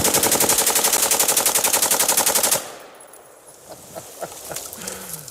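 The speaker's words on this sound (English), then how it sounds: "Now let's check out this slide fire video." Rapid slide fire rifle bursts ring out as a dense, steady stream of loud close shots for about two and a half seconds, then stop abruptly, leaving faint outdoor noise and a few scattered small sounds.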